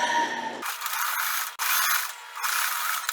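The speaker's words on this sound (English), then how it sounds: "I'm just going to go ahead and stitch across that" A sewing machine stitches across a tote bag strap, giving a close mechanical whirr with a clattering rhythm, briefly pausing and then running again, with no voices.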